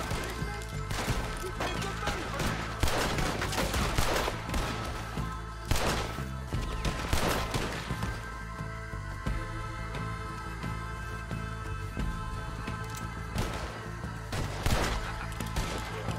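Scattered gunshots ring out in Red Dead Redemption 2, with several sharp reports spaced irregularly over a continuous, dense game soundtrack.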